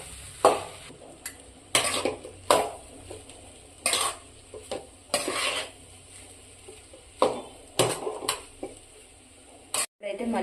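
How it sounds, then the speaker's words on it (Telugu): A spoon stirs cooked rice into a tomato mixture in a pan, giving repeated loud scrapes and clinks against the metal over a soft sizzle, with no one talking. "ఇప్పుడైతే ముందుగా ప్రిపేర్ చేసుకున్న రైస్ అయితే యాడ్ చేద్దాం. ఇలా మంచిగా అయితే మిక్స్ చేసుకోవాలి"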